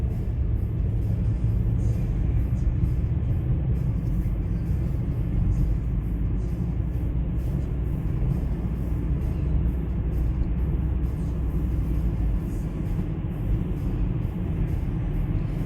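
Heard from inside, a car drives along a road at 50 km/h with a constant low tire and road rumble, steady and unbroken throughout.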